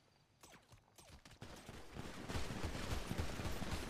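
Bursts of gunfire in a GTA roleplay video game session, starting as scattered distant shots and building into a loud, dense rapid-fire fusillade with repeated cracks toward the end.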